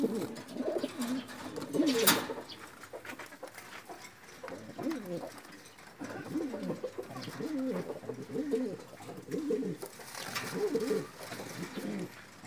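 Paired racing pigeons cooing softly in repeated throaty bursts, fairly near but quiet, with a faint rustle in between.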